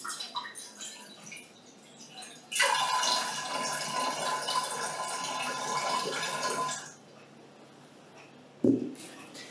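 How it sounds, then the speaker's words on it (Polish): Tap water gushes into a vessel holding hydrogen peroxide, a loud steady pour of about four seconds that stops abruptly, followed by a single clunk near the end. "Ja nasz perchydrol zaleję teraz zwykłą wodą z"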